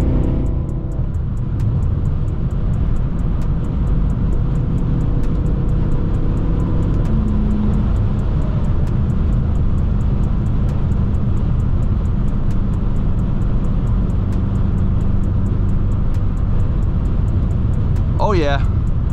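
A car at a rally drives in seventh gear, its engine a loud, steady drone with constant road noise, heard close from inside throughout.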